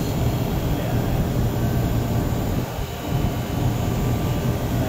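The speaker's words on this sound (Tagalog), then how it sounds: "Yan, nabirit na yung compressor" An air compressor runs under a heavy load, giving a steady, loud mechanical roar that holds with little change and dips only briefly near the middle.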